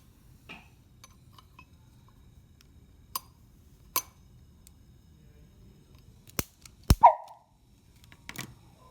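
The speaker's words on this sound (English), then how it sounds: "So that popping sound is the characteristic test for hydrogen." Hydrogen gas lit with a clicker igniter in a chemistry test: a few faint clicks, then a couple of sharp short pops close by, the last with a brief barking tone, in an otherwise quiet room.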